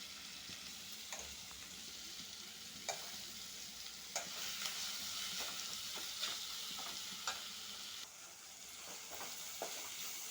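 Chopped tomatoes with salt cooking in a pan: a steady soft sizzle runs throughout, broken by repeated brief scraping stirs at irregular intervals, close and moderately quiet, with no voices.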